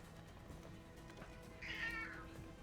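A cat gives a single drawn-out meow, faint and a bit distant, over a constant low background hum with no one speaking.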